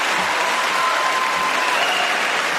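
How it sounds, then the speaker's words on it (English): Audience applause at a political event, a dense, steady roar of clapping that fills the whole stretch at close, loud level with no break. "get all that round of applause"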